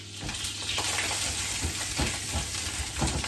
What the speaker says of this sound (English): Sizzling away in my pan, here I have 12 sausages.